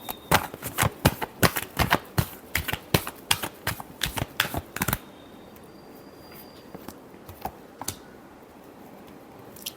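Tarot cards shuffled by hand: a run of crisp, rapid riffling slaps for about five seconds, close and loud, then a few scattered soft card taps in a quiet room.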